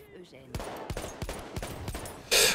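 Mars-auto pistol firing in Battlefield 1, five sharp evenly spaced shots following a quiet start, then a sudden loud burst of noise at the end, with a voice speaking underneath.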